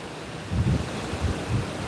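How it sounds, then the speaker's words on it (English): Strong gusty wind buffets the microphone beside a lake during a carp fishing outing, a low rumbling roar that swells in several loud gusts, with no talking. "It is super windy."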